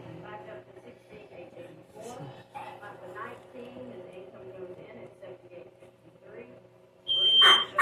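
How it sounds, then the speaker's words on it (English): A smoke alarm set off while cooking with an air fryer shrills in loud high beeps near the end, after several seconds of people talking in a kitchen. "y'all gotta tell me if you guys have this problem with your air fryer because I can't stand it."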